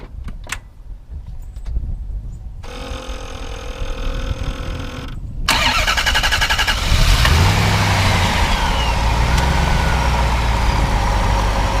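A 1994 Corvette ZR1's 405hp engine cranks and catches, then settles into a steady rumbling idle, loud and close, with no talking.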